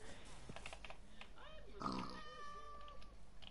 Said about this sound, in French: mais il y a déjà des cochons ici.